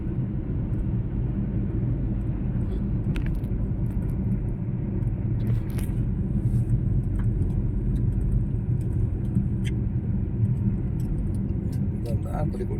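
Car overtaking a Toyota Fortuner on a long road trip: steady, loud low engine and road rumble heard from inside the vehicle throughout, with faint voices and light rattles over it.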